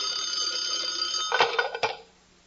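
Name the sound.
telephone ringing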